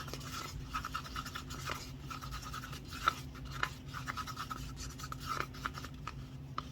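Fluorescent orange Liquitex acrylic paint being stirred and mixed, a steady soft brushing and scraping rub with a few sharper taps, close and fairly quiet over a low background hum.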